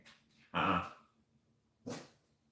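A pet dog indoors gives two sharp barks about a second apart, the first louder and longer, with quiet room sound between.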